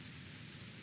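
Drops of meltwater from thawing snow and ice patter steadily and softly, spread into a continuous hiss-like wash with no other sounds over the short stretch.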